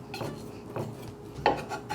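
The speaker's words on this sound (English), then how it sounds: "you use the side of your knife and kind of mash it up" Garlic cloves pressed and mashed with the flat side of a knife on a board, three soft crunching, scraping strokes, close and fairly quiet.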